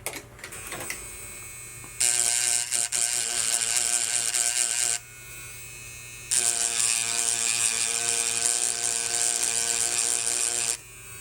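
A small USB mini engraving tool grinds in two loud, close bursts, a first run of about three seconds, a short quieter pause, then a longer run of about four and a half seconds, each a buzzy high whine.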